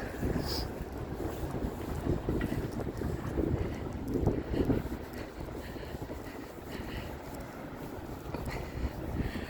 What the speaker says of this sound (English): It's a little windy, it's a little cold.